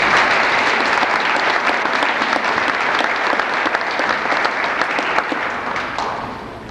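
Sustained applause fills a school awards-night hall, many hands clapping in a dense, even wash that tapers slightly toward the end, with no talking over it.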